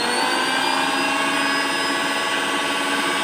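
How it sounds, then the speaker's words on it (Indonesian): A steady, loud motorized whirring hum runs continuously with a high whine on top, a blender motor at full speed powered by a homemade inverter. "Blender kita nyalakan."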